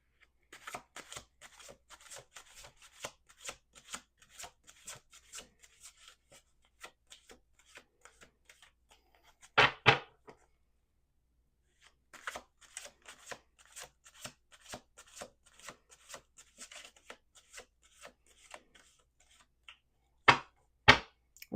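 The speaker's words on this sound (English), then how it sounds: "Let's do two more shuffles." Tarot cards being shuffled by hand at a table, a quiet run of crisp, rapid riffles and flicks, with two louder bursts of cards snapping together and a pause between shuffling passes.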